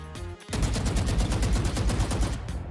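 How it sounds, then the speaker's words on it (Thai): A rapid burst of default Vandal gunfire in Valorant rattles on for about two seconds after a short lead-in, loud and evenly paced. "เสียงปืนก็คือเหมือนเดิมเป็น default เสียงปืนนะครับ"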